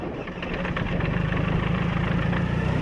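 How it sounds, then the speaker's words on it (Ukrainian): A loud aircraft engine runs steadily on the ground at a constant drone, a deep throbbing hum that holds without a break. "Цей літак спочатку випробовують на землі на різних потужностях двигуна."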